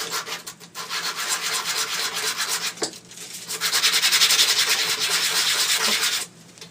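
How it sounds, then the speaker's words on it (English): A plastic ShengShou LingLong puzzle cube piece is sanded down by hand. Steady, close scratchy rubbing runs in long strokes with a brief pause midway and no speech. "so you're going to sand it down"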